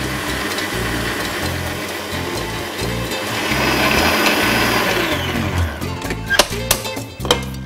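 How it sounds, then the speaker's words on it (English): An electric mixer whirs steadily while whisking cake batter with sugar into a thick, pale ribbon for a savoury cake roll, a close, continuous buzz that lasts throughout, with a few clinks against the bowl near the end. "Going to whisk until it's very thick"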